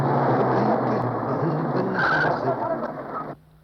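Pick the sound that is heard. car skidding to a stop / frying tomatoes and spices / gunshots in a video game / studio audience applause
car skidding to a stop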